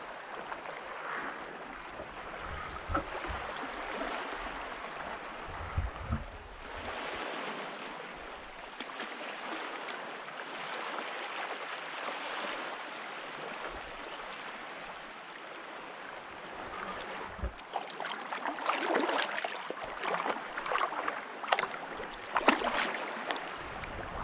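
A sea kayak paddles close to shore on a flat calm sea, with steady soft water swishes and splashes from paddle strokes over a continuous gentle wash, growing somewhat busier toward the end.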